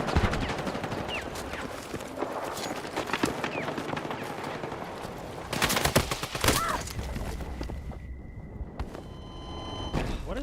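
Rapid gunfire bursts from a Counter-Strike match, dense crackling volleys for several seconds, then a sharper burst before a quieter stretch with a steady electronic tone.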